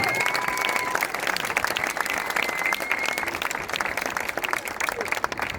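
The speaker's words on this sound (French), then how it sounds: "Ça mérite encore plus d'applaudissements, s'il vous plaît." An outdoor crowd applauds a medallist at a French national cross-country eliminator mountain bike championship, dense continuous clapping with a few whistles, steady throughout.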